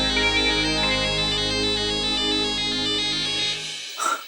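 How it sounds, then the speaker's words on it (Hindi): A phone ringtone plays steadily and loud for about three and a half seconds, a bright repeating electronic melody, then cuts off, followed by a brief faint rustle. "मिस अंदराबी का फोन है"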